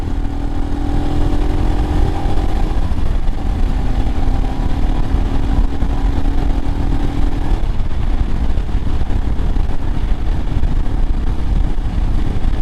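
A 2022 Royal Enfield Himalayan motorcycle engine revs up and pulls hard, its pitch climbing, then it holds at a loud, steady roar with no talking.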